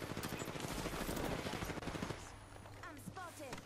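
Rapid automatic gunfire in the Apex Legends video game, a dense sustained burst of shots that thins out midway, with a voice speaking over the later part.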